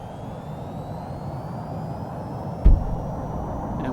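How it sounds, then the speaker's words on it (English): A small aircraft's engine roars steadily at full throttle while the brakes hold it in place before takeoff, a loud continuous drone with a brief thump partway through. "now we will hold the brake and throttle up to maximum"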